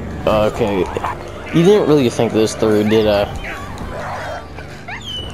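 A dog in a video game barks and yips in quick bursts, then whimpers faintly, loud and near, with someone talking over the sounds.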